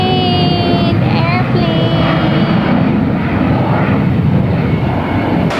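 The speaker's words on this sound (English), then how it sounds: "Airplane!" Propeller airplane passing overhead, a steady broad engine roar that stays loud throughout, with voices speaking faintly beneath it.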